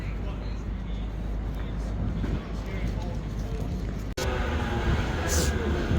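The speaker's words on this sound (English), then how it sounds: "we are just getting onto this double tram for Altrincham" A Manchester Metrolink double tram heading for Altrincham rumbles along with a steady low roar, recorded from onboard, with an abrupt shift in the sound partway through as the ride continues.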